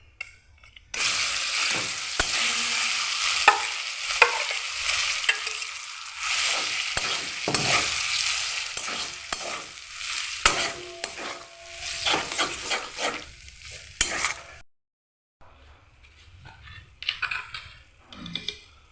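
Ground green pea paste sizzles in hot oil with asafoetida in a wok while a utensil stirs and scrapes it repeatedly; the frying hiss runs strongly before a short pause near the end, then resumes more faintly.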